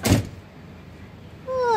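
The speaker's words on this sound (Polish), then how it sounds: "A przymknij te drzwi." A VW Sharan car door shuts with one short, solid thud at the start, followed by quiet room tone and then a rising whine near the end.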